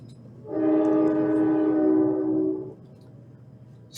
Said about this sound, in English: And a train is going by the warehouse.